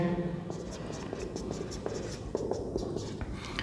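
Chalk or marker strokes writing math equations on a classroom board, faint scratchy scrapes and taps in an irregular rhythm over a noisy room background.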